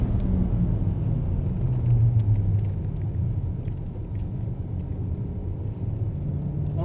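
A BMW E92 M3 with a 420 hp V8 engine rumbles steadily on a track, a loud, low, continuous engine roar heard from inside the car, with no talking.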